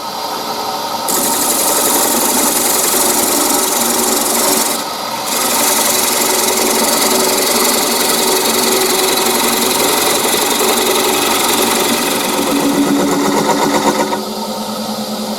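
A wood lathe turns a natural live-edge square winged bowl while a tool cuts away its tenon, giving a steady, loud, continuous whirring and scraping that briefly dips near the start before carrying on without speech.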